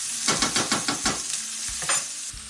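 Frozen peas frying in hot oil, a loud close sizzle broken by rhythmic scraping strokes of a spoon stirring the pan, with no talking.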